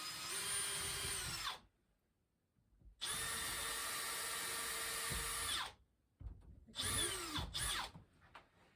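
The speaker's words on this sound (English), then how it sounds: "So first we have to drill through the fiberglass, otherwise it'll crack." A power drill whines loudly boring through fiberglass in three bursts separated by short silences, the last burst broken into quick stop-start pulses.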